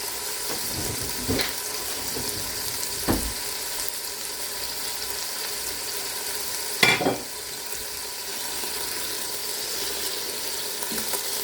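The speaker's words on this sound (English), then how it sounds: "So I'm going to add in the fish and get it sauteed." Fish sautéing in a hot Ninja Foodi pot, a soft continuous sizzle with a few sharp clatters and a louder splash of sputtering midway, no voices.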